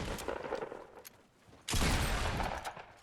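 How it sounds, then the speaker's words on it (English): Gunfire in the video game Fortnite, with scattered shots early on and then a loud, dense volley of rapid shots that holds for over a second, close and without talk over it. "Oh god, I'm getting shot at right here."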